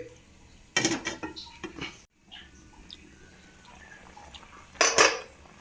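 A lid is set onto a cooking pot of vegetable stew with okra, with a sharp metallic clatter near the start and another bright clank toward the end, a quiet simmering background between them.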